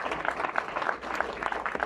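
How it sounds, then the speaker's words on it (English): Graduates clapping at a graduation ceremony, a steady patter of hand claps that is fairly quiet and continuous for two seconds with no voices over it. "Please clap for yourselves."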